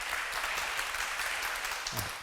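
Sustained applause from a crowd after a lecture, steady and dense throughout, with no talking over it.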